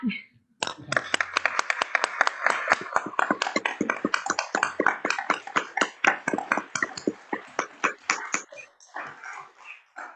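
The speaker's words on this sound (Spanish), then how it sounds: "Yo creo que se merece un aplauso." A small online-talk audience applauds a speaker. Sharp individual claps come close together, then thin out and grow sparser over about ten seconds, with a brief voice at the very start.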